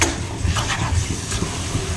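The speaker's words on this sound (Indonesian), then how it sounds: "Ini kita sangrai terus." Meatball filling is dry-roasted in a pan, with a continuous close sizzle and the repeated scrape of a utensil stirring it.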